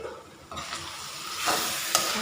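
Eggs frying in a pan with stir-fried instant Mama noodles cooked late at night, a steady close sizzle and hiss with a few scraping stirs rising in intensity, no voices.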